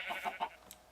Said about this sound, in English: Seriously, chickens, you guys are loud.